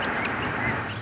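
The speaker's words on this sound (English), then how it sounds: "The birds sound like they're in stereo." Outdoor birds around Richmond, Virginia, during a quiet lockdown period: a short stretch of several calls, quacking and chirping over soft ambient noise at moderate distance.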